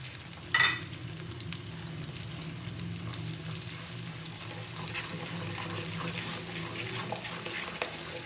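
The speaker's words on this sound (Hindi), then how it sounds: "अब इसको मसाले को हमने अच्छे से भूनना है" Masala and spices fry and get stirred in a pan over a medium flame, a steady close sizzle with a louder burst near the start as ingredients go in, and no one speaking.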